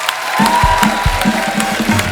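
A studio audience at a comedy show claps loudly and steadily, a dense burst of applause filling the space, with a few louder thumps mixed into the clapping.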